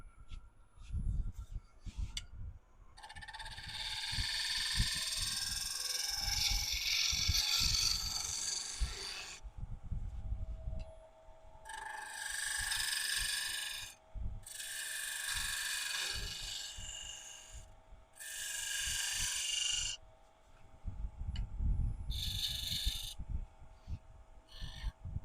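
Small gouge cutting a spinning wooden workpiece on a lathe, giving several bursts of high, scraping, whistling shaving noise separated by short pauses, with the low motor hum running throughout and no talk.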